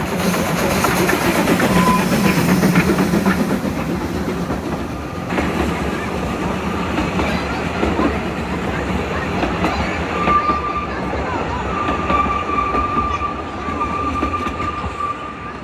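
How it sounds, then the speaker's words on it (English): A train passing through the mountain village of Beddgelert in North Wales rumbles loudly and steadily throughout, its clattering wheels and carriage noise filling the scene, with a thin wheel squeal or whistle-like tone surfacing toward the end. "The train stops right in the village"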